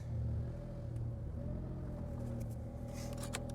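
Smart Roadster engine idling on its first run after a fuel pump repair, a steady low rumbling drone close by with faint clicks and rustles near the end, no talk.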